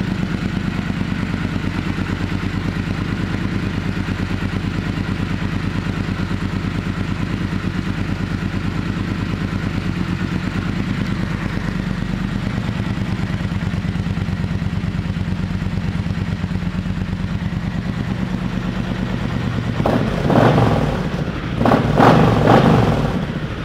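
A 2014 Triumph Thunderbird Commander cruiser motorcycle engine idles steadily with a low, even rumble for a long stretch, then a few louder clattering bursts near the end.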